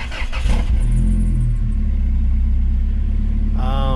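A 1999 Toyota Surf 4x4 SUV engine turns over at the ignition and catches, settling into a loud, close, steady rumbling idle, and a brief tonal sound is heard near the end.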